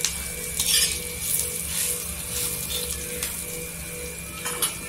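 Green chillies sautéed in a pan, a loud close sizzle with a spatula stirring and scraping in short repeated strokes, steady throughout; no talking.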